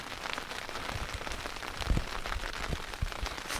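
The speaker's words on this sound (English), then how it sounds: "they were talking about light rain today and that's what's happening now" Light rain falling on a camp along the Skye Trail, a steady soft patter of drops on a nearby surface with a few slightly louder taps, continuous and close.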